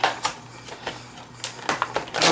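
Scissors snip and cut through Skullcandy headphone packaging in a rapid series of sharp, close crinkling cuts and clicks.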